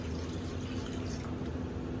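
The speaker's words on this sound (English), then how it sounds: "just add your warm water" Warm water pours in a steady, unbroken splashing stream into a pot of rice for jambalaya, mixed with chicken broth powder.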